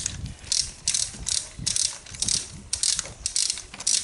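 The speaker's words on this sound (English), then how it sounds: "set my torque wrench to 22 Newton meters" A torque wrench ratcheting while tightening spark plugs to about 22–23 newton metres on a BMW 318i, a close, rhythmic series of clicking ratchet strokes with brief pauses between pulls and no talking.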